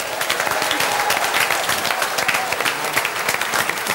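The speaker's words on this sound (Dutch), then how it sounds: "voordat ik een enorm applaus van u heb gehad" An audience at a carnival variety evening in Rijsbergen applauds steadily for four seconds, dense hand claps at an even level with no voices over them.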